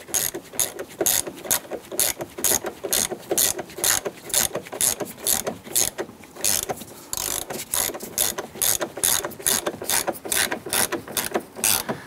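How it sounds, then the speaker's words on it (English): A ratchet snugs down bolts on the A-pillar grab handle of a 2002-2008 Dodge Ram 1500 pickup, a steady run of rapid pawl clicks in repeated bursts, close and clear with no talking. "With both bolts started, we can go ahead and snug those down."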